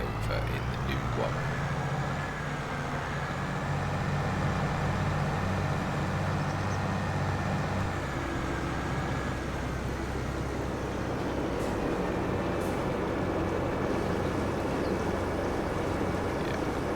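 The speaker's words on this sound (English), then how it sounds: "switch the engine off after this, I think" A farm tractor engine in Farming Simulator 22 runs steadily throughout, a continuous low drone with a whining tone layered on top, fairly loud and unbroken, with speech likely present over it.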